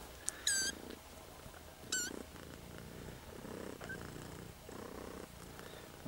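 A cat purrs close by in a soft, rhythmic pulse, joined by a couple of short high chirps near the start and again around two seconds in, in a quiet room with no speech.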